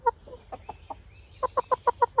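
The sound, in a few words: chicken hen clucking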